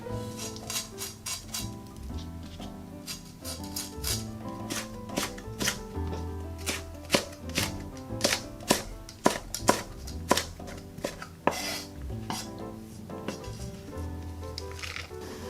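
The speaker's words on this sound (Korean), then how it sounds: "청고추, 홍고추는 씨를 빼고 어슷하게 썰어 줄 겁니다" Rapid knife chops on a cutting board slicing green and red chili peppers diagonally, a quick irregular run of sharp taps that grows louder and denser midway, with no talking.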